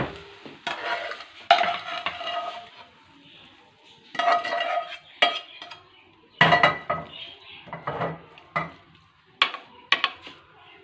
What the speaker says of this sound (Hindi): हम आपको इसको डिश आउट करके दिखाते हैं।